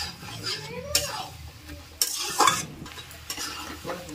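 Desi chicken curry is stirred and fried in a pot, with a spoon scraping and knocking against the metal in a few sharp strokes over a soft background sizzle.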